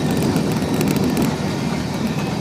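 A passing train fills the air with a loud, continuous rumble and rattling roar, heard up close and steady throughout with no voices.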